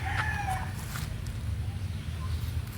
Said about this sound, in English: think I hear a chicken down the street crowing